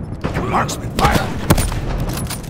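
Gunfire in Call of Duty Black Ops 4, with sharp sniper and marksman shots cracking among a dense, busy exchange of fire, several loud reports over about two and a half seconds, with voices mixed into the battle noise.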